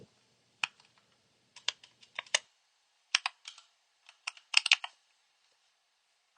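Short bursts of typing on a computer keyboard, crisp close clicks arriving in quick clusters separated by brief pauses, in a quiet room with no talk.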